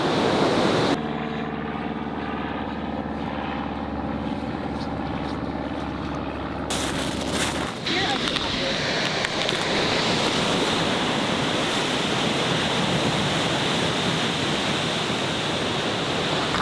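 Ocean waves break on a beach in Iceland as a loud, continuous roar of surf. The sound is mixed with wind rumbling against the microphone and grows fuller and more broadband after the first several seconds.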